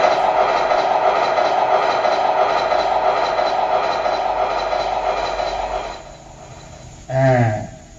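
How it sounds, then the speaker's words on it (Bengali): A train rumbles steadily through most of the scene at moderate loudness, the noise thinning toward the end before a brief louder burst near the close. "ওই তো ট্রেনটা এসছে।"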